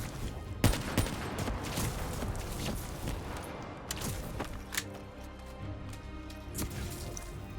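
Gunfire rattles through a Black Ops 3 campaign fight on Realistic difficulty, with dense bursts and sharp single shots over a busy wash of battle noise. A few louder reports stand out early in the clip.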